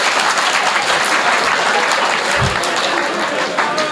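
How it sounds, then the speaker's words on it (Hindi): Audience clapping at a Hindi Dingal poetry recitation by a Charan poet: dense, loud, steady applause from a crowd filling the whole stretch, close and continuous. "ताली बजाओ"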